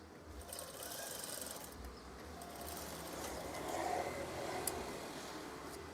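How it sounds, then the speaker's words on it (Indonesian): A sewing machine stitches folded fabric for a simple curtain rope, giving a faint, steady mechanical whir that runs continuously throughout. "Setelah itu jahit."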